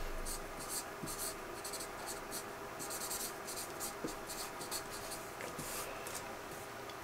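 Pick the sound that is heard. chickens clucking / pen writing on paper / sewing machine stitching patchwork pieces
pen writing on paper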